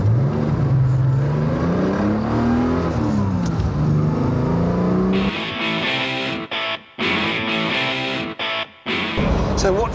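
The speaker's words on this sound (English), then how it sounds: "give us a little blast of acceleration." Jaguar E-Type sports car accelerating hard close by, a rising engine note climbing through the gears for about five seconds, then a loud sustained roar with brief cutouts between shifts.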